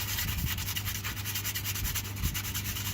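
Steady abrasive rubbing of sandpaper over a Versachem putty patch on a holed muffler exhaust, a continuous close scratching texture with faint strokes and no talk.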